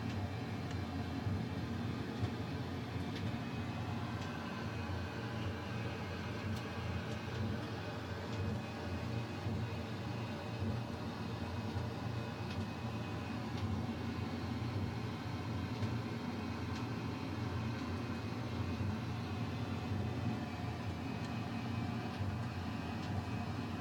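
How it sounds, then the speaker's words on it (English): Inside an aircraft landing at Madeira Airport with the landing gear down, a steady, dense low roar of engines and airflow holds evenly throughout, with no clear speech. "Landing gears down."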